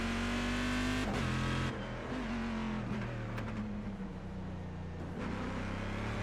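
A Corvette GT1 race car in iRacing roars steadily at high revs, its engine note dipping and climbing through gear changes and lifts, loud and close throughout with no talk.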